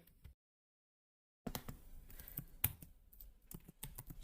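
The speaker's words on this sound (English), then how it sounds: "I'm going to type in the months" Clicky keystrokes on a computer keyboard come in short bursts and irregular taps, close and fairly quiet, after a brief silent gap.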